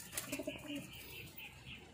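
Pigeons coo softly in short throaty bursts close by, with light chirps and a faint rustle from the birds in the background.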